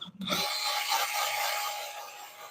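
Steady, loud abrasive sanding on a dried, cracked wooden piece being refinished, likely turned on a lathe; a continuous close rasping hiss after a brief knock at the start, no talking.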